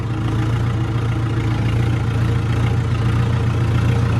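Kubota MU4501 tractor idling steadily with a 9.5 to 10 foot rotavator attached, a continuous low diesel drone held at slow, even revs with no surges, close and fairly loud throughout.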